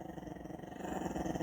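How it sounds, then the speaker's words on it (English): A dog gives a low, continuous growl that rumbles steadily and grows a little louder toward the end, close by and with no voices. "You don't even know what you're barking at."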